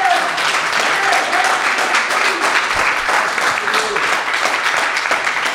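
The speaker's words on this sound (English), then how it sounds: "If you guys want to clap, feel free, get loud, man." Continuous audience clapping at the Starland Ballroom during a radio pre-show with Greta Van Fleet, steady and fairly close, with faint voices under it.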